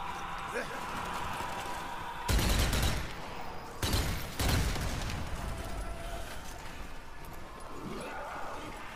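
Gunfire in the zombie shooter Zombie Army 4: Dead War, with two loud bursts of shots standing out over a steady bed of game noise and a voice talking.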